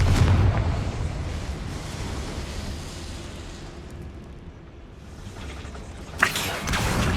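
A Confringo fire spell from Hogwarts Legacy bursts in a broad, roaring game explosion that fades over several seconds, followed by a sharp crackling burst near the end.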